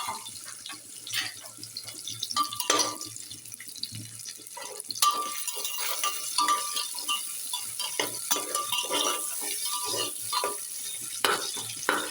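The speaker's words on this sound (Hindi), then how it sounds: "ये मेरा भुजा रहा है मसाला प्याज" Onions and spices sizzling in a pan for a village-style soybean dish, a steady soft frying hiss with occasional stirring clinks and scrapes, close and moderately quiet with no talk.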